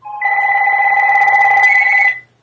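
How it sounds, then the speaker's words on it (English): A telephone bell rings steadily and close by for about two seconds, a loud continuous trill, then stops, with no one talking over it. "Don't pay attention to this phone call."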